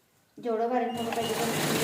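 A sewing machine stitching a cloth vegetable bag starts up abruptly after a brief silence and runs as a steady, close motor whir for just over a second.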